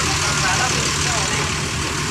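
A large Rosalia Indah bus engine runs steadily nearby with a low rumble and broadband roar, while a voice talks over it.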